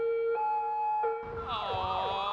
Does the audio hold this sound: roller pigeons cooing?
no